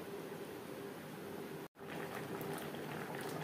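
Fish curry with gathi kochu, or taro root, simmers in a pan, giving a steady, soft bubbling hiss that drops out for a moment before carrying on.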